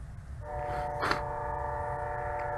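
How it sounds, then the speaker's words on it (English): A cargo train passes nearby, a steady loud rumble of rolling wagons with a short horn-like burst in the middle, no talk. "There's a train passing by with a bunch of cargo."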